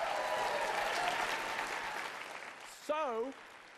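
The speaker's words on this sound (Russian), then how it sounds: "Я хочу услышать громкие аплодисменты Господу." A church congregation gives loud, sustained applause, a dense wash of clapping that fades slightly before a voice briefly cuts in near the end.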